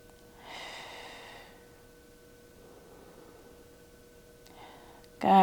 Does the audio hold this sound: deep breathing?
yes